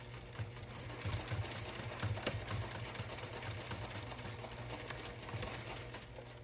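A sewing machine runs steadily through clear vinyl for a Halloween trick-or-treat bag, stitching at a shortened stitch length with a fairly soft, even mechanical whir and rapid needle chatter, heard alone.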